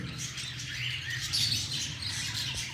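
At a bird exhibition with colourful ringnecks, a pair of green ringneck parakeets chirps faintly and high-pitched over a low, steady hum of the room.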